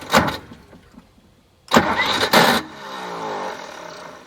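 A diesel man-lift's starter motor grinds in two bursts, a short crank and then a longer harsh one, before the engine catches into a rough, close idle, with no talk over it.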